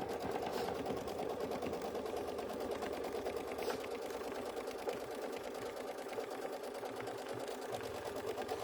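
Sewing machine quilting the background of a fabric snowman trivet, a fast, continuous mechanical whirring and needle chatter running steadily throughout.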